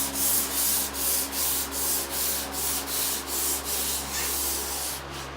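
Steady rhythmic sanding of a textured ceiling, a scratchy rub repeating about twice a second with a low constant hum underneath; no voices.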